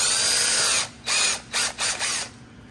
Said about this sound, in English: So I'm going to drill a hole here.